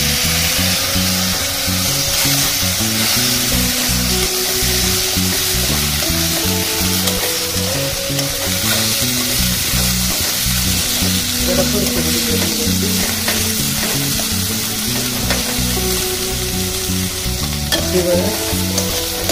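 Chopped tomato fries hard in a pan while a spoon stirs it, giving a loud, dense, continuous sizzle with scraping over a steady tonal background.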